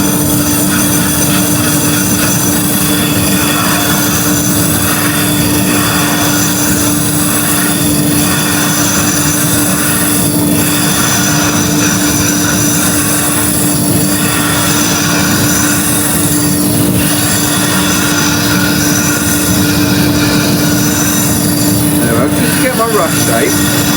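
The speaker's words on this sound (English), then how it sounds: "I'm going to start off by roughing down with the bottom of the bowl gouge" A wood lathe spins as a bowl gouge roughs down a bowl blank, giving a continuous loud, gritty scraping over a steady motor hum that runs unbroken throughout.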